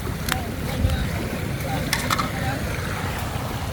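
A strong river current rushes in a steady broadband roar, heavy with wind buffeting on the microphone, and faint voices sound over it.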